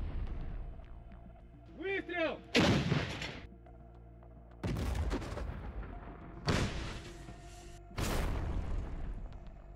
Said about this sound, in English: artillery opened fire on the building used as a temporary deployment